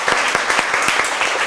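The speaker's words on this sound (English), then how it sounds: "Give them a round of applause." Applause from an audience at a spelling bee final in 2018, a dense steady clatter of many hands clapping, loud and continuous for the whole moment with no break.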